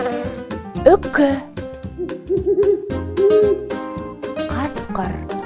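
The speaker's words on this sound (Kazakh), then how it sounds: "Үкі." An owl hoots in a few short, soft calls midway through, set against light background music with brief cartoonish vocal flourishes around them.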